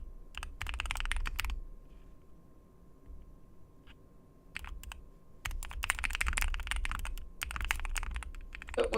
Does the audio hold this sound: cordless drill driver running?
no